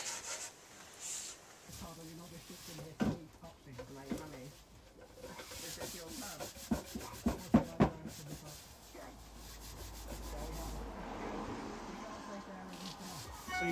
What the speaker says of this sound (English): Now I just need to burnish it all with wood chips.